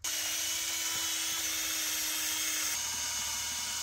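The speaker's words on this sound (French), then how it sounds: "Ça, c'est une sorte de pompe, mais qui fonctionne avec une perceuse." Drill-powered water pump filling water tanks gives a steady, high-pitched mechanical whine with a constant motor hum, close and continuous throughout.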